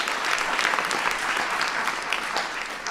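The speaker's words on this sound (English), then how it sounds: "give Anirudh a big round of applause" Steady, full applause from a large audience for a young innovator at a speech event, dense clapping sustained throughout without letting up.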